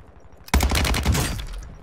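Gunfire in Call of Duty: Modern Warfare II: a sudden loud, close burst of rapid shots lasting about a second, then a fading rumble.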